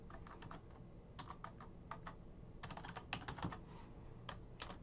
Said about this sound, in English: I'm just going to type in POG underscore Mech